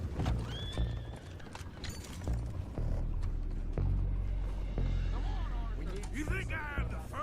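Horses in Red Dead Redemption 2 whinny and snort amid clopping hooves and creaking tack, close and fairly loud, with a neigh rising near the end and voices talking throughout.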